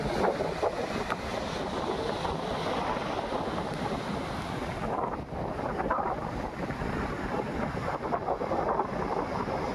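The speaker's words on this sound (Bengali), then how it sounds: "চামাশুলি বিচ একদম নির্জন" Waves and wind on the deserted Chamasuli Beach near Kanthi, a continuous loud wash of surf mixed with microphone-buffeting gusts, steady throughout with no voices.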